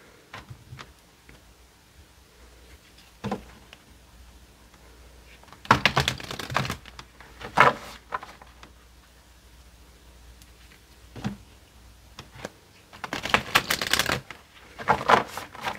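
Tarot card shuffling in several separate bursts of riffling and rapid flicking, close by, with quiet gaps between them and no talking.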